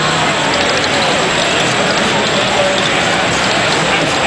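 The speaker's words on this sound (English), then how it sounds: "One motor." A LEGO motor drives a ratchet mechanism in a noisy Maker Faire hall, its fast clicking buried in a dense, loud crowd wash with steady chatter throughout.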